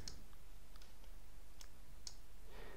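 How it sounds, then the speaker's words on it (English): Several faint, sharp computer mouse clicks in a spreadsheet program, spaced irregularly across a quiet room with steady low background hiss. "So when I click OK"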